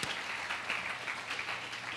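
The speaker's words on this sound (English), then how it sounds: "another warm applause for our keynote" A conference audience gives warm applause after a keynote speech at the 2015 Waterfront Conference, an even, moderately quiet wash of many hands clapping with no voices.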